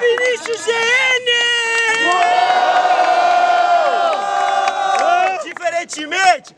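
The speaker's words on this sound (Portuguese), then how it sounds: "muito barulho pro Spike." A live crowd at a student rap battle roars and cheers for a contestant, loud and sustained with shouts and whoops, while an amplified host voice talks over the noise.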